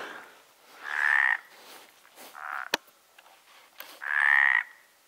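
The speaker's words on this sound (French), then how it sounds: "Franchement, j'adore ces grenouilles." Frogs croak from a pond full of tree frogs and toads, in two loud, drawn-out rasping bursts with softer calls between them and one sharp click in the middle.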